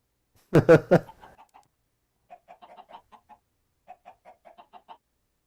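Clucking chickens in a video-game chicken coop: a loud burst of squawks at first, then scattered soft, quick clucks in two short bouts.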